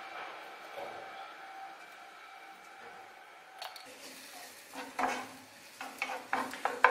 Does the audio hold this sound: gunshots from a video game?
no